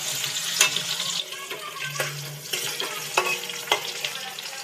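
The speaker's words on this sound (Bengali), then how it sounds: "আলুগুলো লাল লাল করে ভেজে নিতে হবে।" Two potatoes, cut into pieces, sizzle in a pan as they brown, a loud, steady crackle with intermittent clinks and scrapes from stirring.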